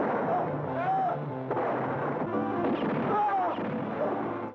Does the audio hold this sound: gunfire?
yes